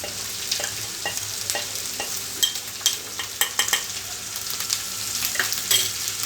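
Turmeric being stirred into ivy gourd (tindora) frying in a pan: a steady close sizzle with repeated scraping stirs and light utensil knocks throughout, no talking.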